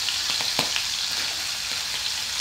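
Pork fillet and onions fry in MCT oil in a pan with a steady, close crackling sizzle and a few sharper pops, heard alone without talk.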